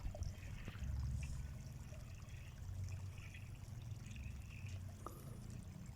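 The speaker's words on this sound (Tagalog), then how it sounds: "Nagpapatubig yung pinsang ko ng buto ng sibuyas." Faint water trickling and pouring from a watering can onto onion seedlings in an outdoor nursery bed, a soft continuous flow with low outdoor rumble underneath.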